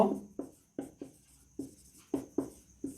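Pen or pencil writing numbers on paper for a Hindi maths lesson on the largest and smallest two-digit numbers: a close, dry series of scratchy strokes, about nine short bursts in uneven rhythm, with no speech.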